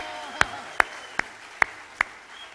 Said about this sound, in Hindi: आपकी तालियों ने मेरी पूरी थकान उतारी साहब